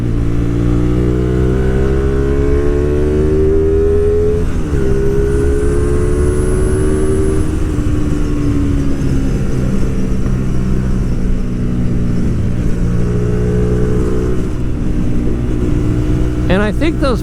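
A Hyosung GTR250R motorcycle on the road, its engine revving up and down in rising and falling sweeps over a loud, continuous droning rumble, heard close throughout.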